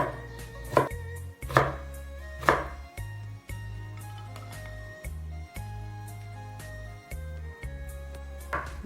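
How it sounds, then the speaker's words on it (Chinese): A knife chops sweet potato slices into thin shreds on a cutting board, a few crisp strikes standing out over steady background music. "再切成丝"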